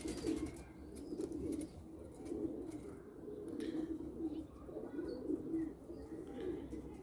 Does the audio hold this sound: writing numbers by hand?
no